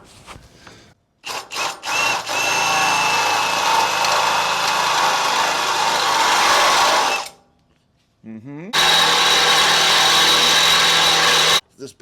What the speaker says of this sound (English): So I got to drill that out